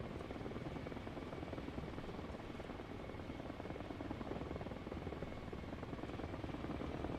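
Helicopter flying in the military game Arma Reforger, a steady loud rotor and engine roar that stays constant throughout with no talking.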